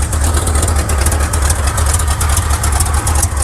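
A Chevy C10 pickup truck engine with a big exhaust leak idles while warming up, a steady, low rumble with a constant throbbing drone and a faint high hiss on top, close and fairly loud.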